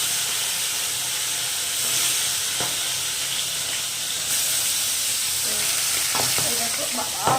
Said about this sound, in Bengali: তো চলো তাড়াতাড়ি করে ভেজে নিই, গ্যাসটা কমে তাড়াতাড়ি মাছ কটা ভেজে নিই